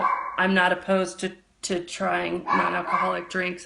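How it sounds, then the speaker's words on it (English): Dogs bark repeatedly and loudly nearby in short bursts, overlapping a person speaking. "And sorry about the dogs."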